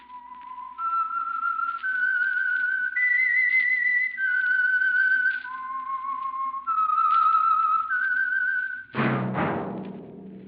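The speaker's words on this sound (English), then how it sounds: "That whistle is your signal for the Signal Oil Program, The Whistler." A man whistles the signature tune of an old-time radio mystery program, a clear, sustained melody of held and gliding notes, loud and alone, ending in a sharp sting of orchestral music.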